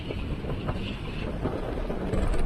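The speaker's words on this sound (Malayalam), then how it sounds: "നല്ല കാറ്റ് ഒരു രക്ഷയില്ല" Steady rumbling wind buffets the microphone, a dense low roar that stays strong and unbroken throughout.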